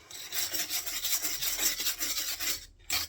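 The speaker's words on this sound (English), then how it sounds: "But I'll carry on with this scraping for a bit." Scraping on a wood burning stove makes close, loud, rhythmic rasping strokes that go on for about two and a half seconds, then a brief pause and one final scrape.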